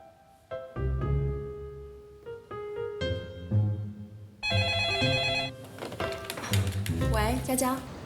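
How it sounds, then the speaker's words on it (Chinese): A telephone rings in a Taiwanese drama scene, its bright repeated tones sounding over background music and sound effects, with people talking around it. "金城。 啊，你的电话。"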